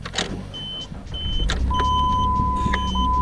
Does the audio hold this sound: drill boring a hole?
no